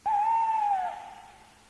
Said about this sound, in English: An owl came out and flew about